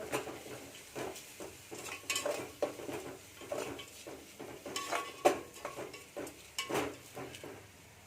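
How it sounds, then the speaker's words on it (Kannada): Turmeric stirred into hot oil in a pan for mango chitranna, with a spoon scraping and clinking against the metal in an irregular rhythm over a soft sizzle, close and fairly quiet. "ಇವಾಗ ಚೂರು ಅರಿಶಿನ ಹಾಕ್ಕೊಂಡು ಹಿಂಗೆ ತಿರ್ಸ್ಕೊಳ್ಳಿ"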